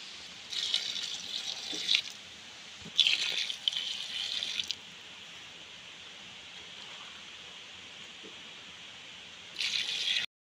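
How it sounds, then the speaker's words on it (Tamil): Water is poured into a pot of chicken biryani with rice, cooked village style outdoors in a forest, in three separate splashing bursts with quiet pauses in between. "இப்போ வந்து 6 கப்பு தண்ணி ஊற்றணும்."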